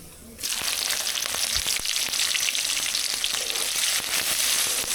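Chopped onions dropped into hot oil in a kadai after whole garam masala, bursting into a loud, sudden sizzle that holds as a steady, crackling hiss, close and alone.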